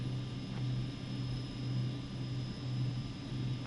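An MD-82 airliner in Microsoft Flight Simulator 2024 on the runway at Linate for takeoff, a steady droning engine roar with a low hum holding constant, moderately loud, with no talk.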